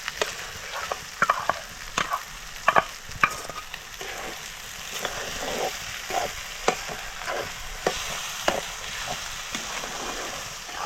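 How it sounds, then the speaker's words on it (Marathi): Semolina shira with mango juice stirred and roasted in a pan: a steady sizzle with repeated scraping strokes of a spoon against the pan, close and moderately loud, no voices. "शिरा कसा चांगला असा परतून घ्यायचा बघा रस टाकल्यावर"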